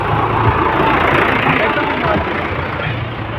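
A tractor engine runs steadily near the rising Ghaggar river at Sardulgarh, a loud continuous low rumble that does not let up for the whole stretch.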